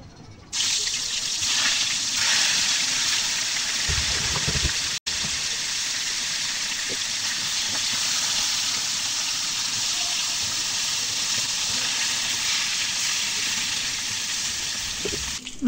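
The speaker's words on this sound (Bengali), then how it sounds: "তেলটি গরম হয়ে গেলে মাছগুলো মুচমুচে করে ভেজে নেব" Tuna fish pieces fry crisp in hot oil in a wok, giving a loud, steady, close sizzle with a brief break near five seconds before it carries on evenly.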